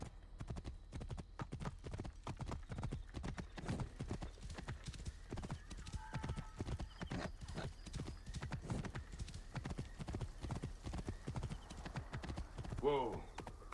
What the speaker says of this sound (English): I feel like this horse doesn't know directions.